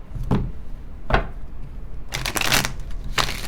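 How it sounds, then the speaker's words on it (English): Tarot cards shuffled by hand in several separate riffling bursts, close and fairly loud, with brief pauses between them and no talking. "One more shuffle."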